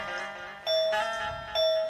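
Two clear metallic temple bell strikes about a second apart, each ringing with a sustained bright tone over a murmur of background noise.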